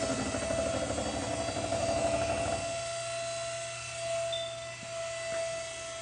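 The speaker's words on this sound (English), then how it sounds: "That noise you hear is obviously the hydraulics, bringing it back up." A steady mechanical hum with a whining tone, loud and rough at first, then settling into a quieter, even drone as hydraulics lift a Carver One tilting vehicle back upright.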